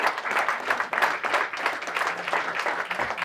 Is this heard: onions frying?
no